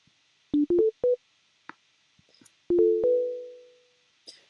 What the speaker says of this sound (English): I'll drag in an instrument, just operator for now, and I'll just leave it at a sine wave